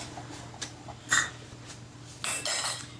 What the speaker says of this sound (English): now we are going to ladle it in the jars